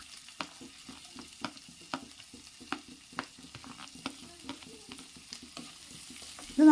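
Onion, ginger and garlic sauté in butter in a kadai, giving a steady soft sizzle broken by regular scraping stir strokes roughly every half second, close and alone.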